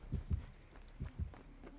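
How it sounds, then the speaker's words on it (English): The Dead by Daylight heartbeat thumps in paired low beats, two doublets about a second apart, soft and muffled in the game audio. "Yeah, I hear the heartbeat."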